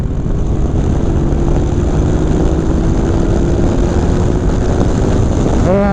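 A 2015 Yamaha FJ-09 motorcycle engine accelerates in fourth gear, a loud steady drone up close, mixed with heavy wind rush.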